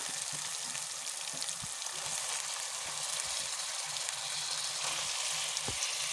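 Ginger garlic paste fries in oil for prawn biryani with a steady, even hiss of sizzling close up, plus a few soft clinks and light stirring taps.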